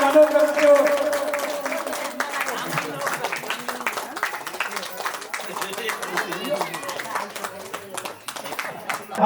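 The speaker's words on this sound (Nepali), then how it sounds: "सबैले ताली बजाइदिएर स्वागत गर्न हार्दिक अनुरोध गर्दछु।" An audience applauding at an honors program held at a temple, a dense stretch of many hands clapping steadily, fairly close, with voices and murmuring mixed in.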